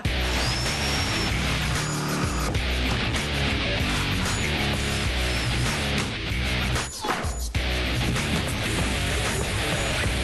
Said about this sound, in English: basic demolition has begun here